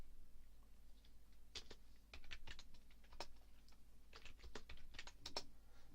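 Keystrokes tapped out on a computer keyboard while entering a command to make a directory, a close, quick run of uneven clicks in several bursts with short pauses between them, no voices.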